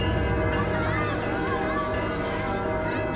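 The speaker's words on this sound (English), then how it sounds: "whenever anyone in town heard a bell ring" A bell rings out with a clear, sustained metallic tone, a few quick strikes at the start then a lingering ring, fairly loud against a soft background.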